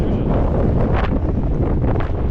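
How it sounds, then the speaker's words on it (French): Strong wind buffets a microphone outside a small wood-and-stone mountain refuge in Greece, a loud, continuous roaring rumble with gusty surges and no voices. "il y a vraiment trop de vent"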